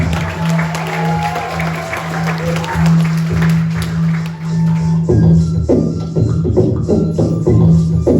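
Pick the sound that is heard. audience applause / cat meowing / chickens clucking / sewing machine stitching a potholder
audience applause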